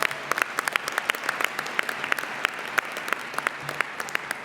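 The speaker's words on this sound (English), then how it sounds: "Let's give her another big round of applause." A crowd at a celebration dinner applauds steadily, a dense patter of many hands clapping at once, fairly loud and sustained throughout.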